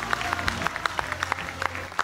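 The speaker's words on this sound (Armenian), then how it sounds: "Ծափարում ենք խնդրում տղաներին։" A small studio audience claps for the Armenian national futsal team's players, a short burst of fairly faint, scattered handclaps.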